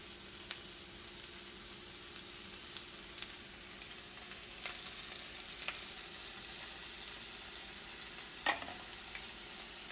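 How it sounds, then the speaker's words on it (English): Quiet, steady sizzle of a frying pan as soy sauce goes in while cooking chicken teriyaki, with scattered small pops and one sharper crackle near the end. "Next we're going to do our soy sauce."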